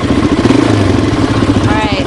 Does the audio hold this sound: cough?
no